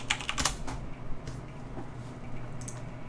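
Quick bursts of typing on a computer keyboard, close and crisp, with clustered key clicks and brief pauses between them over a low background hum.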